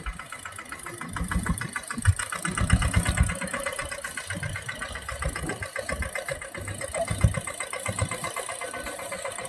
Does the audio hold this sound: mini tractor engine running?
yes